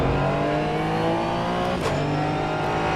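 Race car engine in the driving game Assetto Corsa Evo, a loud continuous drone holding a steady pitch with a brief flicker near the middle, no voices over it.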